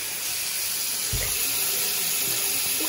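Water runs from a household tap into a sink for a drink, a steady splashing stream starting with a thump near the middle and continuing without talk.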